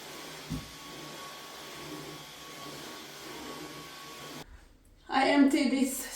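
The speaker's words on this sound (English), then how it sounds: "I'm gonna do some vacuum clean here." A household vacuum cleaner runs indoors while a room is decluttered before a move, giving a steady, moderately loud whir with a faint hum for about four seconds. It then cuts out, and a voice starts talking.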